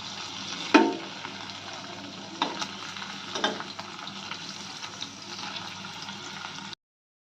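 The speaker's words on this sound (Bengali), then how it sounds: "পনির আমাদের ভাজা হয়ে গেছে" Paneer pieces fry in a pan of hot oil with a steady, close sizzle. A few louder knocks and scrapes from stirring rise above it before it cuts off at the end.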